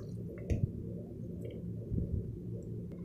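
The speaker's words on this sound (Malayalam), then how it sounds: "മിക്സ് ചെയ്ത് വെച്ചിട്ടുള്ള ബീഫ് ഞാൻ ഈ കുക്കറിലോട്ട് ഇട്ട് കൊടുക്കുകയാണ്" Marinated beef dropping into a pressure cooker gives a few soft, wet squelches and plops, two brief clusters over a low background hum, faint and close.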